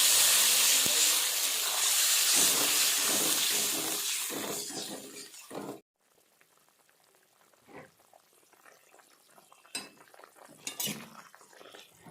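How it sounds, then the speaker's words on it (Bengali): Water poured into a pan of fried ground spice paste while making a Bengali mango koi fish curry gives a loud sizzling steam hiss for about six seconds, then it drops to quiet simmering with faint clinks. "এইবার মশলাটা পুরোটাই কষানো হয়ে গেছে এখন জল দিয়ে দেবো পরিমাণ মতো"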